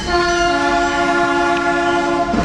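Diesel-electric locomotive built in 1947 hauling a heritage railroad excursion, a loud sustained horn blast with strong harmonic tones over constant rumbling engine and rolling wheel noise.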